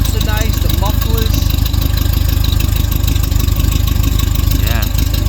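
A 1963 Corvette split-window's 327 V8 idling steadily with a low, lumpy rumble, loud and close, while people talk over it.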